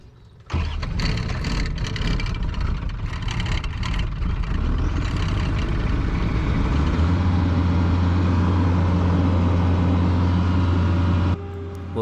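A skid steer engine on a goat farm starts up after a brief quiet moment, then idles loudly and steadily as it warms, settling into a deeper, even hum before cutting off near the end.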